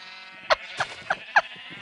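Sheep in the Minecraft video game bleat four times in quick succession, each a short, clear, nearby call over a quiet background.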